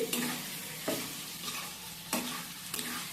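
Crushed ginger and garlic frying with onion and tomato in a pan, a continuous close sizzle punctuated by four distinct scraping stir strokes at a slow, even rhythm.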